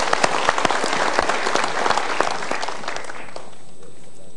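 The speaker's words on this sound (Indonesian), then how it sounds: "Kita berikan tepuk tangan untuk dua orang ini." A studio audience at an Indonesian televised motivational talk show claps in sustained applause that starts full and dense, then thins and fades out toward the end.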